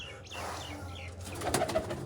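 A pet pigeon gives a soft, faint cooing call outdoors near a rooftop loft, brief and low against quiet background noise.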